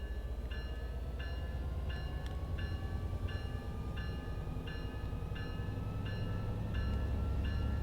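Steady low rumble of a Metrolink F59PHR passenger train departing in Train Sim World 5, with a repeating rhythmic clatter, continuous and fairly loud throughout, no voices.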